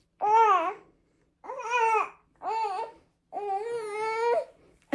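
A baby babbles and fusses in four separate bursts of wavering vocal sounds that rise toward crying, close to the microphone with short quiet pauses between them.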